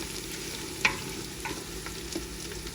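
Quiet steady sizzle of spices frying in a big pot, with one sharp metallic clink of a stirring spoon and a couple of softer scrapes, close but fairly faint with no voices.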